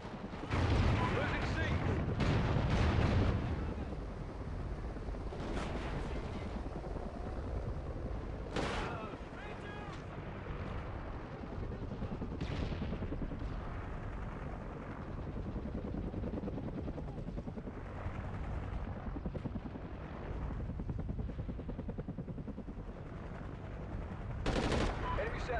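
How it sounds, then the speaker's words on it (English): In a Call of Duty Ghosts Domination match, a helicopter drones continuously under dense in-game gunfire and bursts of machine-gun and explosive fire. The mix stays loud and busy throughout, with several sharper blasts standing out. "Friendly chopper inbound."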